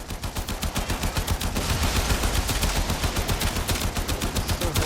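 Rapid automatic gunfire from shooting enemies in the video game Warframe, a loud, evenly pulsing burst of shots running through the whole stretch with no talk.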